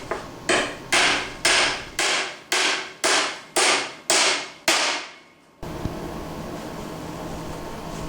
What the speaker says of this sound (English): Nail the 2x3s to each other on the ends using 3-inch nails.